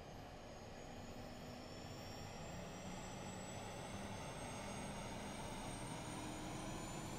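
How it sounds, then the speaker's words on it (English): Steady whine of an Airbus A380 auxiliary power unit spinning up in Microsoft Flight Simulator, heard from outside, a broad turbine roar with rising high-pitched tones, constant and unbroken with no voices. "let's hop outside and see if we can hear that APU firing up"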